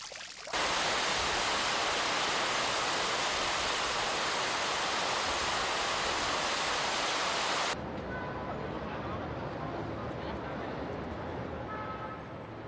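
Water from the Fuente del Negrito, the first fountain of Valencia, Spain, rushing as a steady broadband splash that is loud for several seconds and then drops to a softer continuous flow with faint street sounds.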